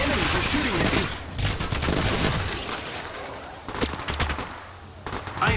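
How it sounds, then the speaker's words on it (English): Bursts of automatic gunfire from enemy squads in the mobile battle royale game Apex Legends Mobile, dense rapid volleys with short gaps, loud and close, with some voice mixed in. "the enemies are shooting at me"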